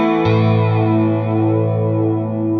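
Electric guitar played through a chorus effect pedal, a sustained chord ringing out with a shimmering, slightly detuned warble, loud and close with no talking.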